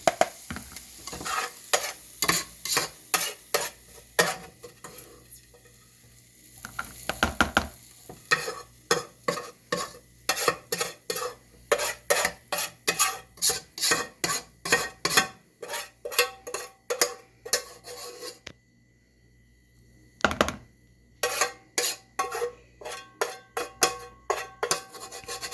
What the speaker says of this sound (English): I'm going to take these veggies out